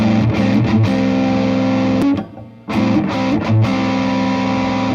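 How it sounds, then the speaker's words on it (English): A Reverend Reeves Gabrels RG-1 electric guitar played through heavy distortion rings with sustained, saturated chords, cut by a brief choked dip midway before the wall of gain returns. "with distortion on, you don't really notice the volume drop as much"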